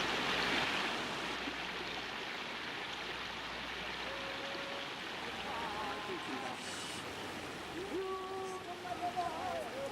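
Broad steady rush of river rapids over rocks while rafting a log raft on the Donggang River in Jeongseon, Gangwon-do, a continuous loud roar of churning water throughout.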